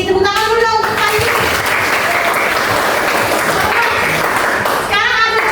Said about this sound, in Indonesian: Tepuk tangan dulu dong untuk Pak I.